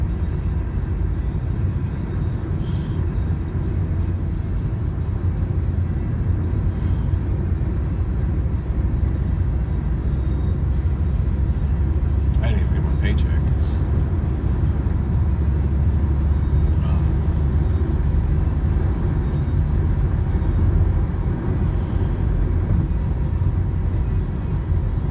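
A car driving on a daily commute, heard as a loud, steady low road rumble and engine drone from inside the cabin throughout, with a brief spoken line partway through.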